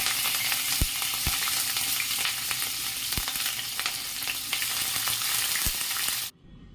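Green chillies and sliced onion frying in oil for bagara rice, a constant close sizzle with several sharp knocks of a spoon against the pan, cutting off abruptly near the end; nobody speaks.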